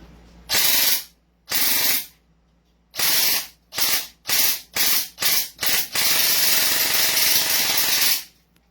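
An M4A1 carbine gel blaster fires loudly: two separate bursts, then several rapid short shots in a row, ending in one long sustained burst of full-auto fire.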